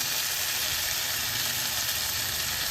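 Cauliflower frying in oil, a dense, constant loud sizzle and hiss with faint stirring underneath.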